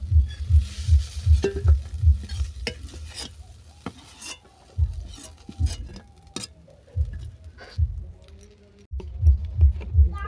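Spatula stirs and scrapes bean bhorta in a frying pan, rhythmic clattering strokes in quick runs broken by short pauses, with a faint sizzle underneath.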